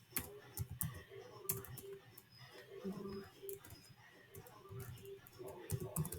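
Keys clatter on a computer keyboard during a shell scripting session, a quiet run of clicks and taps in short bursts while a person talks intermittently.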